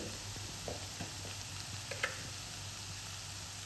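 Onions sautéed with black pepper and spice powders in a pan give off a soft, steady sizzle, with faint scraping strokes as they are stirred, quiet and continuous with no talking.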